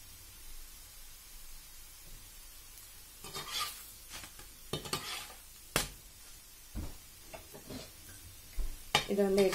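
Parotta dough fries in a hot pan with a low, steady sizzle, broken by sharp scraping and clattering bursts of the pan and utensil that grow busier toward the end.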